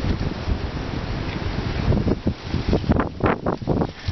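Wind blows hard outdoors on a cold day, roaring and buffeting the microphone in loud gusts that swell and drop, with no voices.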